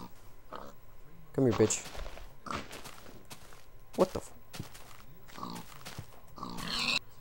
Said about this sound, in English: Oh, pigs!